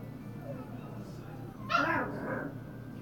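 A short, high whining cry rises briefly over a low steady background hum, like a dog whimpering once, at a dog kennel.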